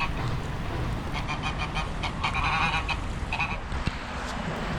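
A nesting goose on a post-industrial river beach gives several nasal honks in short clustered bursts over steady outdoor wind and background noise, moderately close.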